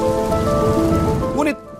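Steady rain pours down as the rainy season begins, a dense even hiss with a faint tonal hum underneath, breaking off abruptly just before the end.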